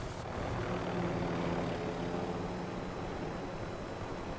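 A helicopter flies in a video game during a supply run, its steady rotor and engine drone holding loud and even throughout with no talk over it.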